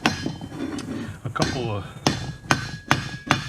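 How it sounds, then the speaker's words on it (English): Hammer striking a metal rod on a Canadian Coleman 335 lantern at a workbench, a series of sharp ringing metallic whacks, close and loud, with someone talking between the first blows. "you need to hit it with a hammer"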